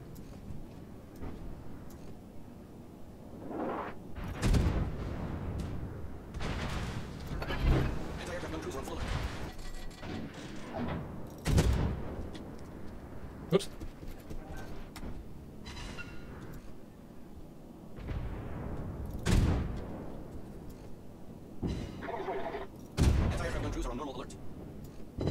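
Naval guns firing in World of Warships, with loud, booming salvos at irregular intervals over a continuous game background, and someone talking between the shots.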